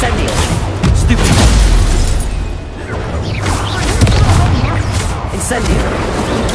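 Incendio fire spells fire off in Hogwarts Legacy combat, loud booming blasts that crash and burst again and again, with a voice calling out throughout.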